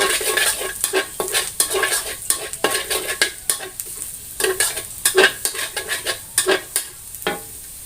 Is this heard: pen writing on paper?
no